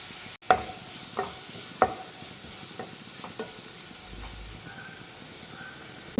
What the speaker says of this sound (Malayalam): ഇതും കൂടി ഒന്ന് വാട്ടിയെടുക്കാം.